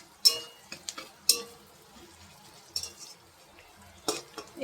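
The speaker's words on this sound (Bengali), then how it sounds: "এই দেখো, ভালো করে এখন নাড়তে হবে।" Chopped ginger and garlic are stirred in a pan, giving a few sharp scraping and clinking strokes of the utensil against the metal, spaced apart with quiet gaps and a soft background sizzle.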